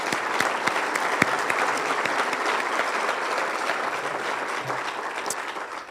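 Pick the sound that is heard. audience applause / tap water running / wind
audience applause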